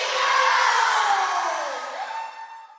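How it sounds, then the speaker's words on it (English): A crowd of young children shouting an attendance cheer together, a loud massed yell that holds and then fades away over a few seconds. "that was the little Eaglettes doing an attendance cheer there"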